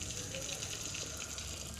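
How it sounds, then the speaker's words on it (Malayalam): Steady water gushes into a bucket in the horror video game Nightmare, a continuous bright rushing stream at even loudness with no breaks, heard alone. "ബക്കറ്റിൽ വെള്ളം പിടിക്കുന്നു."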